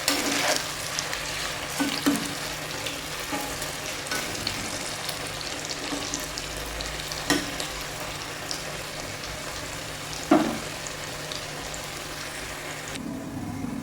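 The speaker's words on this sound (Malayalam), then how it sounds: "ഇളക്കി കൊടുത്ത് വേണം നമ്മൾ വറുത്തെടുക്കാൻ" Ginger fries in hot oil in a pan, a steady soft crackling sizzle running throughout, with occasional scraping clicks from the spoon as it is stirred until crisp, and no voices.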